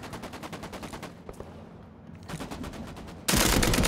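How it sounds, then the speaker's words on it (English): Rapid automatic gunfire from an LMG in the video game BloodHunt, a fast rhythmic burst that pauses briefly, resumes, then ends in a loud sustained blast of noise. "Shooting this son of a bitch"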